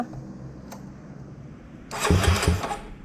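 A Honda CBR150 carburetor motorcycle fitted with an API exhaust starts up: a quiet stretch, then a sudden burst as the engine catches and runs roughly for about a second before settling.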